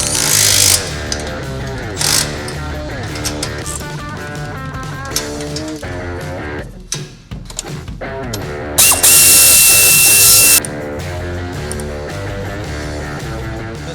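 Bolts being tightened on an aftermarket exhaust fitted to a 2018 Ford Mustang EcoBoost: loud, rapid ratcheting and buzzing tool bursts with a brief pause midway and a sharper, louder spell near the end.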